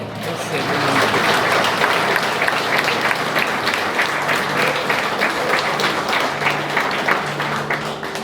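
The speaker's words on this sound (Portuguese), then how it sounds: "aplauda o Senhor" A church congregation applauds through a Sunday service, steady dense clapping from a large crowd that fills the room, with a voice faintly heard under it.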